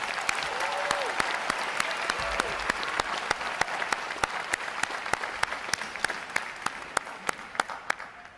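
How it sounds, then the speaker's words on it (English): A crowd applauds recruits at a Navy boot camp graduation after a performance by the recruit choir, drill team and band. The steady, dense clapping runs throughout, with a few sharper individual claps standing out near the mic. "How about a round of applause for their performance today, gang?"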